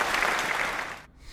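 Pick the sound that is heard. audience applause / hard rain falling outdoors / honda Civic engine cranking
audience applause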